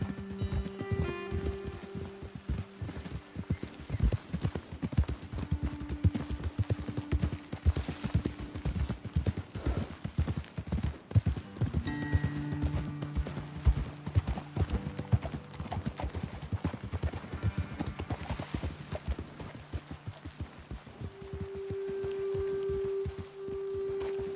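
Horses' hooves clip-clopping steadily at a trot or canter in a video game, a continuous close rhythmic patter with a low background music drone and no talking.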